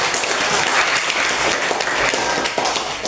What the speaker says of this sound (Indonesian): mari kita berikan aplaus dulu untuk diri kita masing-masing